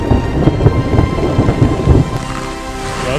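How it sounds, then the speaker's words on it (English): Deep rolling thunder rumbles over steady heavy rain, the low booms loud and close before fading into the hiss of rainfall. "I hear some thunder."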